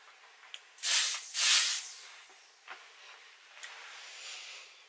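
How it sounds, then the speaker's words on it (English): Two short, forceful hisses of an aerosol spray close by, then fainter scattered clicks and a soft, lingering hiss in a quiet room. "I think I probably would spray the room with that"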